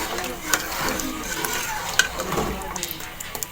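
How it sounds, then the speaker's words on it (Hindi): Aloo gosht curry, potatoes and meat in gravy, is stirred in a pot, giving a wet sizzling scrape with soft spoon knocks against the metal, close and continuous with no talking. "अब इसको मिक्स कर लेंगे"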